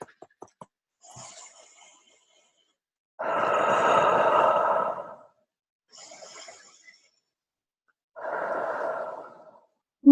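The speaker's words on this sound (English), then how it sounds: "Take 2 deep breaths." Slow, deep breathing close to the listener in a quiet room: two long, airy inhale-and-exhale cycles with silent pauses between them, plus a few soft taps at the start.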